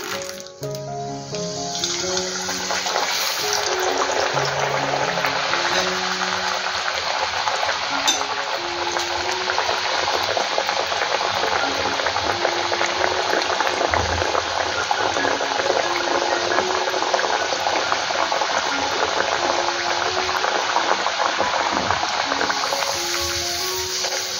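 Balls of pumpkin and jaggery dough (gharge) fry in hot oil, a steady loud sizzle and bubbling that swells once they drop in and continues unbroken, with someone speaking over it at the start.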